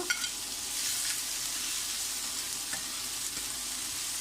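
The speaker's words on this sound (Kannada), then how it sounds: "ಈಗ ಇದು ಗೋಲ್ಡನ್ ಕಲರ್ ಬರುತ್ತಂತೂ ನಾವು ಫ್ರೈ ಮಾಡ್ಕೋಬೇಕಾಗ್ತದೆ" Finely chopped onions frying in hot oil until golden, a steady close crackling sizzle with a few soft stirring knocks and no voices.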